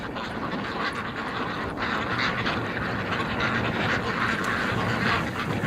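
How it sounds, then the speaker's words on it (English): Muscovy ducks gather at a creek, with soft, scattered quacks and calls over a steady low outdoor rumble, fairly faint throughout. "Oh, there's some Muscovies. They just came over."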